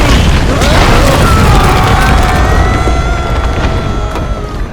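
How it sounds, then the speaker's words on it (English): Massive explosion in the Marvel Ultimate Alliance 3 video game, a loud, dense roaring boom that rumbles on and slowly fades, with crackling debris layered through it. "Sounded like a gamma bomb went off."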